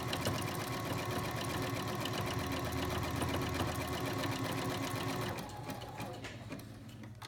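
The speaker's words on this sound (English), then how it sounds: "sewing machine set on a loose zigzag stitch" A sewing machine runs steadily on a loose zigzag stitch, stitching a folded towel insert onto a washable cloth sanitary pad; the close, constant mechanical whir continues for about five seconds, then eases to a lighter, quieter hum as the sewing stops.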